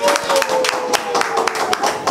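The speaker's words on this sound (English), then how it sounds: "give a clap for me" Audience clapping for a speaker at a talk on slimming and nutrition, a short burst of scattered hand claps close by with faint voices.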